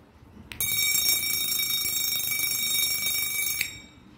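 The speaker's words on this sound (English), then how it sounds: "the sound is coming out from the gong" An electric bell with a gong rings continuously for about three seconds, a bright metallic clangor that starts abruptly and cuts off sharply.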